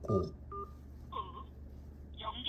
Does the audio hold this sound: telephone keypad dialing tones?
yes